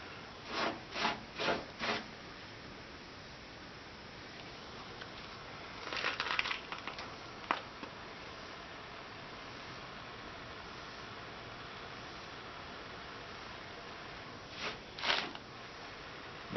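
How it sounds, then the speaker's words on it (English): A rag rubs and smooths lead-free solder tin along a patch panel seam on a car body, heard as a few short, quiet scrubbing strokes in bursts with long near-silent gaps between them. "Now I'm just taking my rag and just smoothing the tin out."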